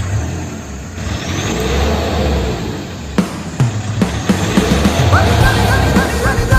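Mahindra Scorpio SUV engine starting up and revving loudly for a test drive, a steady engine drone with sharp bursts and rising revs toward the end.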